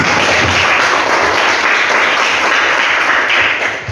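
Group of participants clapping together at the close of a classroom game session, a loud, dense burst of applause sustained for a few seconds before tapering slightly at the end.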